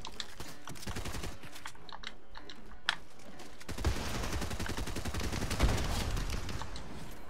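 Bursts of gunfire crackle from the bushes during a Fortnite match, sharp rapid shots scattered over a dense, busy game soundscape, with a couple of louder reports standing out near the end.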